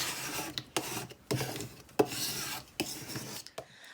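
A Cricut scraper rubs across a cutting mat in short, separate rasping strokes, about six passes with brief pauses between, close and fairly quiet.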